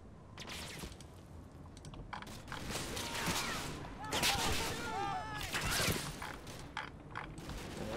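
Machine gun teams lay down suppressive fire in the wargame Combat Mission, faint distant rattling bursts and scattered cracks under background clatter and talk, with some tonal whistling sounds midway.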